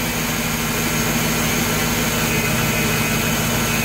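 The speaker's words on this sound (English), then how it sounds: "That's the idle dropping down." A car engine idling fast and then settling down, heard during an alternator check; a steady, loud broadband drone with low hum fills the whole stretch, with no talk.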